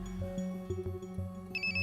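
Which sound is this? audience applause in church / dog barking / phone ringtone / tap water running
phone ringtone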